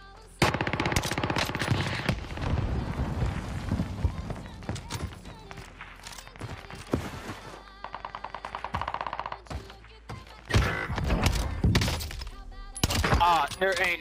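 Rapid automatic bursts from a Cooper carbine in Call of Duty Warzone crackle through a fast firefight, with dense volleys, short pauses and more sharp shots and impacts, heard alongside a player's voice.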